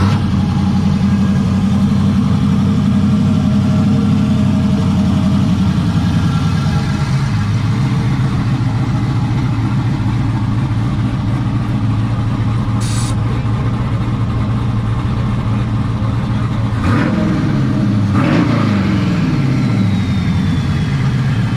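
A methanol-fuelled C10 truck engine rumbling at a steady low idle, the pitch shifting slightly midway, with a few short revs near the end, fairly close and loud.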